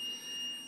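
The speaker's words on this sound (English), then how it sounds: "the first thing that happens is the alarm will go off, which is a little buzzer under there" A small low-voltage alarm buzzer on a multirotor flight controller sounds a single thin, high-pitched steady tone, brief and close, cutting off abruptly.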